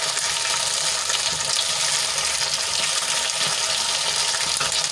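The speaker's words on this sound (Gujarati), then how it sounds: "તેલમાં સારી રીતે મિક્સ કરી લઈશું અને પચાસ ટકા સુધી તળાઈ જાય ત્યાં સુધી આપણે એને તળવાના છે" Brinjal pieces frying in hot oil in a pan, giving a steady, dense sizzle and crackle that runs unbroken and fairly loud throughout, with no voices.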